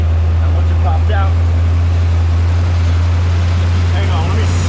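A 1981 Corvette engine runs loud and close in a steady, deep droning hum, while someone talks faintly over it.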